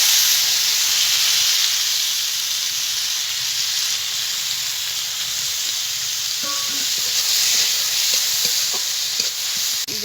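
Turmeric, green chili paste, chopped tomato and ground spices sauté for ghugni in a pan, giving a constant loud sizzling hiss with light stirring scrapes near the end.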